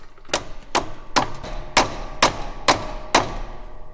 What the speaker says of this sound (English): push it up against the press wheel and take a hammer and just tap it